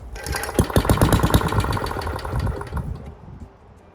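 A Briggs and Stratton Model 9 engine runs roughly on its long fuel line, firing in an uneven, loping rhythm with clattering pulses, then sagging and fading toward the end as it struggles to stay running.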